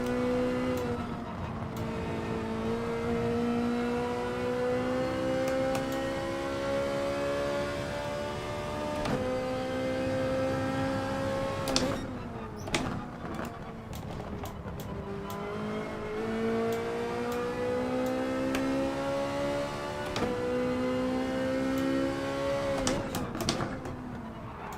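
A Group 4 race car in Gran Turismo Sport at Circuit de Catalunya climbs through the gears with repeated rising engine whines and brief dips at each shift, loud and continuous with someone talking quietly.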